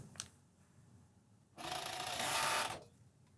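A Juki MCS1500 coverstitch machine sews side seams in a single quiet, steady whirring run of just over a second, preceded by a faint click and soft handling noise.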